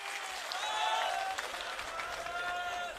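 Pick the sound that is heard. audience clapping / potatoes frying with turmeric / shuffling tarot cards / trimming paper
audience clapping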